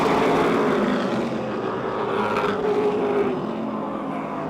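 Race cars roar around the Motordrome Speedway oval during a feature race, a loud continuous engine drone from several cars that swells and eases slightly as they pass.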